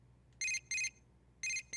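Electronic phone ringing in the video game Persona 4 Dancing All Night, sharp bright beeps repeated in short rhythmic pairs over a quiet background.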